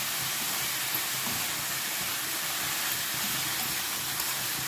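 Alexandrian-style liver frying in oil while being stirred hard gives a loud, continuous, dense hiss and sizzle with a steady level throughout, and nobody speaks.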